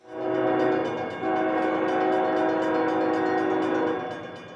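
A CSX freight train heading from Nashville toward Atlanta arrives near Adairsville in north Georgia, its horn blowing a long, loud chord over the rumble of the train passing close by.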